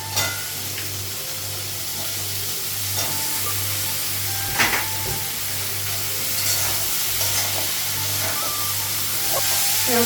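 Vegetables frying in oil in a pan with tomato added, a steady close sizzle running throughout with occasional stir clatters and spits, no talking.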